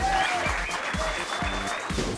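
Dinner audience at a Honda MotoGP champions dinner at Phillip Island clapping for Australian rider Chad Reed, a steady, dense round of applause that fills the room, with low rumbling thuds and a voice underneath.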